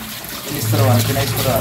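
Water runs from a household faucet that was just repaired, a steady rushing flow under someone talking nearby, growing fuller and louder partway through.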